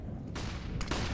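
An MP9 submachine gun fires in Counter-Strike, two quick bursts of rapid shots close together in a match on Mirage.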